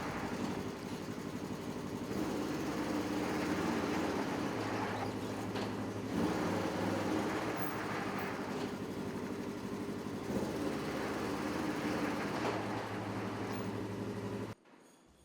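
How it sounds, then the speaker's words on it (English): A Polaris RZR side-by-side rolls back and forth under steady engine drone, its motor rumbling continuously at close range with slight rises and falls, before cutting out abruptly near the end. "drive the vehicle back and forth a couple of times to settle the suspension"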